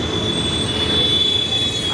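Metro train passing near Erragadda metro station, a loud, steady rumble of wheels on rail with a sustained high squeal running throughout.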